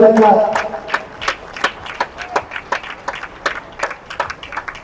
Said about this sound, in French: les applaudissements pour peut-être le dernier jeu de ce Open